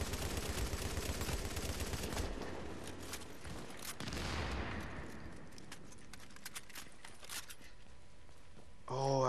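Gunfire in the shooter The Division, with bursts of shots and crackling fire through the first half that thin out to sparser distant pops, under ongoing gameplay noise.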